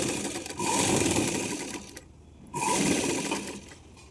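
A sewing machine stitches a two-year-old's umbrella frock in two long, steady whirring runs with a brief slowdown between them, close and loud, no talking.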